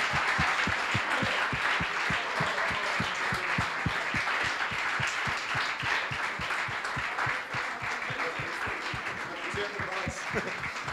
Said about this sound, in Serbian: molim vas da ih pozdravite jednim velikim aplauzom